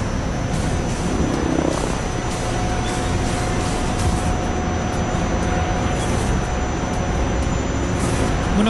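A TAI T129 ATAK attack helicopter flies a display at the 2017 Dubai Air Show. Its rotor and turbine roar is loud, broad and steady for the whole stretch, with no talk.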